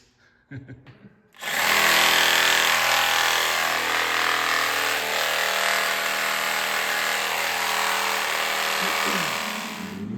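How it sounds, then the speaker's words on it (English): A power tool cuts out rotted metal on a Mopar Duster, starting abruptly after a few short knocks and then running as a loud, steady, sustained whine for most of the clip, with no talk. "cutting out any of the rot that he's got to replace"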